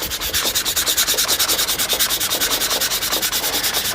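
A semi hollow jazz guitar body is sanded by hand with 2000 grit paper, a close, rapid, even back-and-forth rubbing that keeps a steady rhythm throughout, with no voices.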